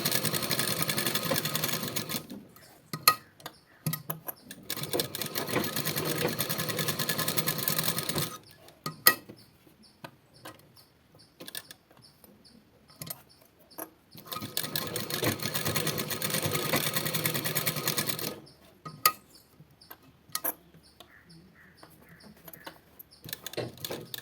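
A sewing machine runs stitching a double layer on a V-neck in a beginner tailoring lesson, with two long steady bursts of whirring and shorter start-stop runs and quiet pauses between them, close and fairly loud with no talk.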